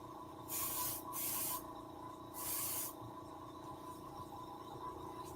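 An air-blast marker pen sprays color in three short hissing bursts, soft and close, separated by quiet gaps over a faint steady background hum.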